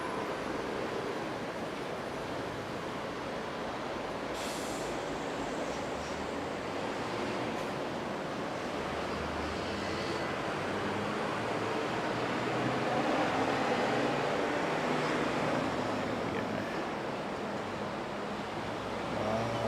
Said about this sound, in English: That's Yamato A321 freighter.